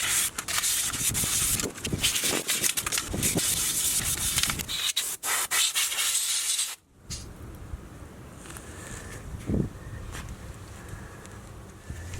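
Abrasive rubbing smooths the heavily rusted steel bearing bore of a Jaguar S Type steering knuckle, a close scratchy sanding sound in repeated strokes that pauses briefly, then resumes more quietly.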